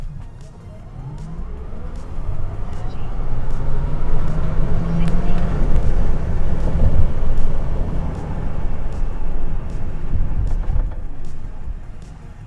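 A Tesla Cybertruck AWD launches hard from a stop in a 0-60 run, a loud, close, rising rush of road and wind roar with faint electric whine that swells and holds, with voices present.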